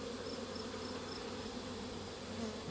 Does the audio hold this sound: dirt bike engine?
no